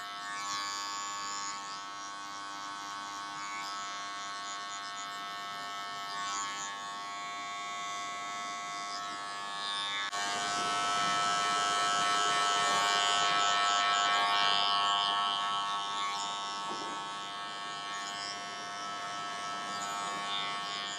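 Electric hair clippers with a half guard buzzing through short hair, a continuous whining hum that swells louder for a few seconds midway as the blades pass over the head, then settles back.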